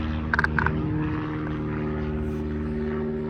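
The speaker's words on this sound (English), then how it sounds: "so you're going to hear airplanes" A propeller plane hums steadily in the distance near an airport, a low droning engine tone, with a few brief clicks near the start.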